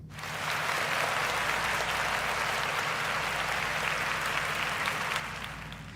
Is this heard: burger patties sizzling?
no